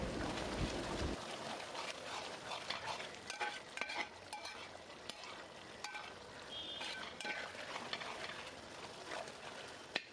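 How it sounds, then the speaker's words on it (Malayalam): Pork pieces are stirred and mixed with masala in a pan for a Kerala pork roast, soft sizzling under repeated scraping and clinking strokes, fairly quiet and close. "ചേർത്ത് കൊടുത്ത് നന്നായിട്ട് മസാലയുമായിട്ട് അങ്ങോട്ട് മിക്സ് ചെയ്യുക."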